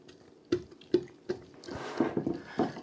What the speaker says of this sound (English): Gonna mix it in here. And then we'll stir it up real good again.